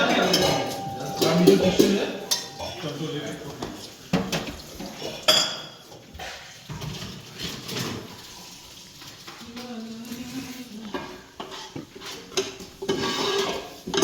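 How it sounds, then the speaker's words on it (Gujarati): People washing dishes and pots in a home kitchen after a bhajiya party, with repeated clinks of steel utensils, running water and clattering, while voices talk and laugh throughout. "આ બાજુ બધા વાસણ ધોવા લાગી ગયા છે"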